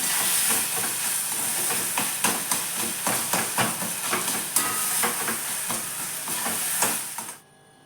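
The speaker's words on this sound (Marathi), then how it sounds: "जसा आपला मसाला टाकते मी घ्यायचा छान परतून घेते मी याला" Masala sautéing in a pan for eggplant bharit gives a loud, dense sizzle close by, with repeated scraping stirs at a steady rhythm before the sound cuts off abruptly at the end.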